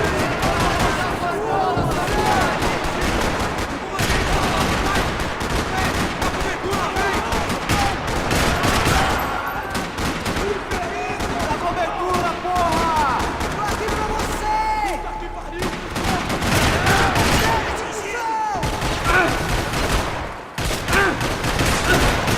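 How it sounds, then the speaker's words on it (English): Rapid, crackling bursts of gunfire from the video game Max Payne 3 rattle almost nonstop in a parking lot under voices and a dense wash of noise, loud and close throughout. "Another parking lot rattling with gunfire."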